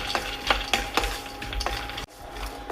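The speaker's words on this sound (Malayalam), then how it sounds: "ഇത് ഹൈ ഫ്ലെയിമിൽ തന്നെ വെച്ച് വറുത്തെടുക്കാം." Almonds roasting in a pan over a high flame give off a steady dry sizzle and rustle, with repeated sharp scrapes and clinks of a spatula stirring them at roughly half-second intervals.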